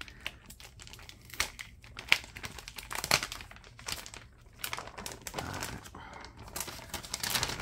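Tape peeling off a Dell Latitude 5480 laptop during an LCD replacement: irregular crinkling, crackling and tearing bursts close up, moderately quiet, with no talking over it.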